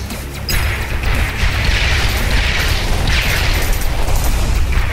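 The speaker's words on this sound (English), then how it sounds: "Nice explosions." A continuous roar of booming blasts and crashing explosions from the shoot-'em-up video game Sky Force Anniversary, loud and dense, with repeated bursts rising out of the rumble.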